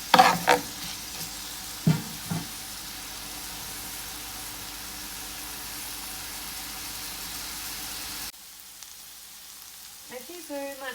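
Onion frying in olive oil in a pan for shakshouka, a steady even sizzle with a few brief stirring knocks near the start; the sizzle cuts off abruptly near the end, leaving faint clinks.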